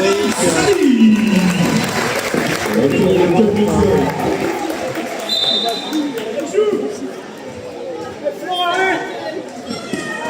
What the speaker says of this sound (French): Sortie de notre numéro 33 sous applaudissements.